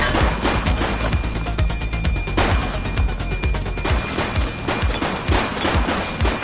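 Gunfire from The Precinct police video game comes as rapid, loud bursts of repeated shots with sharp cracks throughout, heard alone.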